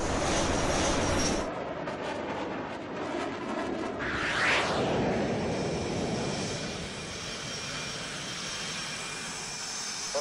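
Jet aircraft engine in the video game H.A.W.X. 2, a steady loud roar throughout with a swelling whoosh partway through, no talk.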